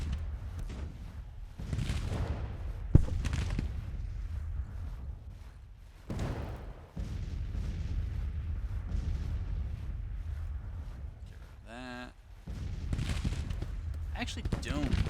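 Artillery fire in Grand Tactician: The Civil War, rolling distant booms and rumbling cannon volleys over several seconds, heard beneath a man's ongoing speech.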